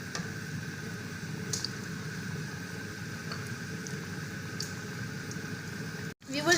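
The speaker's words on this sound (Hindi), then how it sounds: "मीडियम फ्लेम पे हम इनको फ्राई करेंगे।" Chicken pinwheels frying in oil over a medium flame give a steady, fairly quiet sizzle and bubble with faint spatter, running evenly until a brief break near the end.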